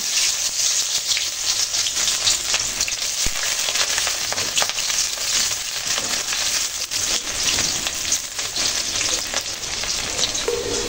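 Chopped onions hitting hot oil in a wok for a tuna fish curry, a loud steady sizzle and crackle that carries on without a break, with occasional stirring scrapes.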